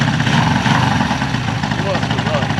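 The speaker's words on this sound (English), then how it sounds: "the cool part of this is the kickstart. Wow. One kick." A 1974 Honda CB550 motorcycle engine idles close by with a steady, lumpy mechanical churn, continuous and fairly loud throughout.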